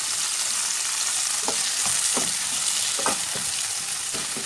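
Onions and green chilies frying in a pan for a dēgī-style potato and onion curry, a steady close sizzle with a few soft utensil scrapes and taps, no talking.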